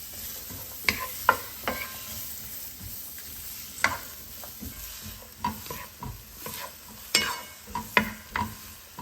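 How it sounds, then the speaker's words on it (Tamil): Onions sizzle in hot oil alongside cinnamon for a mint chicken curry, a steady close frying hiss broken by repeated scraping stirs in the pan, with no talking. "இப்போ ஆயில் நல்லா சூடாகிடுச்சு. ஆனியன் சேர்த்துக்கலாம்."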